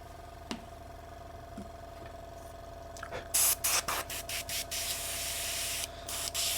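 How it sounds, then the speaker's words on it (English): Iwata airbrush spraying paint onto a sculpt, a series of short hissing bursts with a quieter steady passage, over a low, quiet compressor hum running throughout; close and moderately loud. "How does the compressor sound? Like loud? It shouldn't be. It's a relatively quiet compressor."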